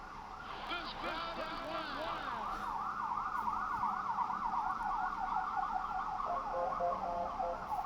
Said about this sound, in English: including this wonderful siren